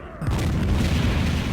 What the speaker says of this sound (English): Hybrids throwing bombs.